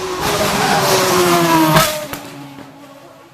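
A 2010 Ferrari Formula One car engine screams loudly close by at Goodwood, a high revving note rising and then abruptly cutting off, followed by fainter engine tones.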